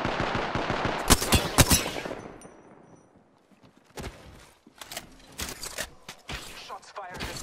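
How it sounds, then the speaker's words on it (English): Video game gunfire aimed at the player, loud rapid automatic bursts up close, then a brief lull before more scattered shots and cracks return. "Shots fired at me."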